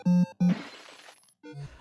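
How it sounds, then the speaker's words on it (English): Glass shattering effect from the NES game Paperboy, preceded by two short electronic beeps, then a crunchy noisy burst that decays, followed by a low bleep; chiptune-style and fairly loud. "Something I do like is the glass shattering sound. It actually sounds really good."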